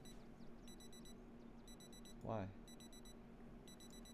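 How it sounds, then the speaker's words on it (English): An alarm clock beeps in repeated bursts of four rapid high tones, cycling steadily through the clip over a low background hum, with a brief spoken word midway. "Who the fuck's got an alarm going on?"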